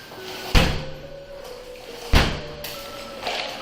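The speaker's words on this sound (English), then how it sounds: "With a heavy kick, the door gave way and they stepped in." Two heavy thuds land at an apartment door as it is forced inward with kicks, each impact sharp and booming, separated by about a second and a half, with no voices over them.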